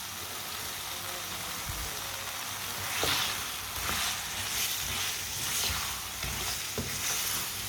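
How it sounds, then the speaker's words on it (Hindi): Boiled potatoes are tossed into a hot spiced tempering in a pan and stirred, giving a steady close sizzle with repeated scraping and clanking strokes of the spoon throughout. "बॉयल किए हुए आलू डाल लेंगे। अच्छी तरह मिक्स कर लेंगे।"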